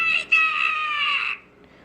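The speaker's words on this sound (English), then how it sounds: "So just like Scyther's also very iconic screaming." Scyther's screech plays from a Pokémon cosplay sound module: one loud, high, sustained cry of about a second with a brief break near its start, fading into near silence.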